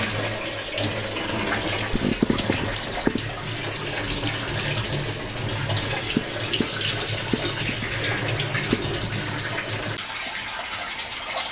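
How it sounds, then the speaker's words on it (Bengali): Steady running water from a tap pours over cauliflower and tomatoes being washed, a continuous broadband rush with small clatters and splashes throughout, easing slightly near the end. "এই যে ফুলকপি আর টমেটো আমি ধুয়ে পরিষ্কার করে নিচ্ছি কেটে"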